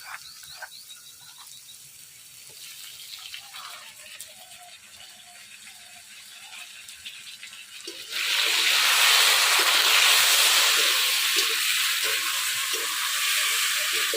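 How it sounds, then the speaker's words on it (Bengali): Potatoes and eggplant fry in hot oil in a village kitchen, a soft sizzle that swells into a loud, dense hiss halfway through and holds steady to the end, with no talk. "এই দেখুন আলু আর বেগুন কত সুন্দর করে ভাজি নিচ্ছি।"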